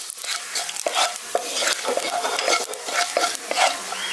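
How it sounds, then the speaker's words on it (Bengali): Dried red chilli and panch phoron five-spice fry lightly in mustard oil for a village-style jujube pickle, a loud continuous sizzle with rhythmic spoon scrapes and clatter against the pan throughout, no voices. "এবার তেলটার মধ্যে দিয়ে দিচ্ছি একটা শুকনো লঙ্কা আর 1/2 চামচ 5 ফোড়ন। এবার এটাকে হালকা একটু ভেজে নিচ্ছি।"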